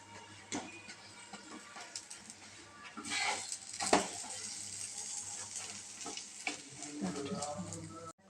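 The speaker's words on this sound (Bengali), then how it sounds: "এরকম করে লাল করে আমরা ভেজে নেব এক একটা পরোটা" Aloo paratha frying in oil in a pan, a soft, low sizzle with scattered crackles and spatula clicks, fairly quiet and close, with a louder burst of crackle midway.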